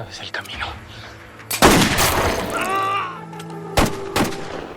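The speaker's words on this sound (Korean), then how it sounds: "총소리가 들리자 페로는 루카스를 찾아 나섭니다." Gunfire in a dramatic film scene about serum-enhanced soldiers, a sudden loud burst of shots followed by a few sharp single reports, with faint whispered voices and tense ambience between.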